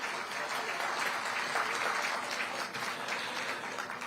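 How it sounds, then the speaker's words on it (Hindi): Loud, sustained audience clapping fills a hall at a Haryana Chief Minister's project inauguration event, steady and crowded with no pause. "एक बार तालियां जरा जोरदार आप सबकी तरफ से हो जाए।"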